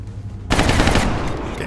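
A single loud gunshot fired in the XCOM Long War video game, a sharp blast after a brief quiet moment, its noisy tail ringing out to the end.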